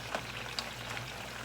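Korean BBQ ribs frying in a pan of excess grease give a steady, moderately quiet sizzle with small crackling pops and no talking.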